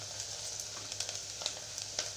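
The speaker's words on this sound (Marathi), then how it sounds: "हे आपण तेलामध्ये छान परतून घेऊ।" Chili powder and turmeric fry in oil, a faint, even sizzle with small crackles and a few soft ticks, quiet and steady throughout.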